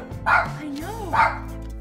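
A dog gives two short woofs with a whiny, whimpering tone between them, close and fairly loud, with a person's voice nearby.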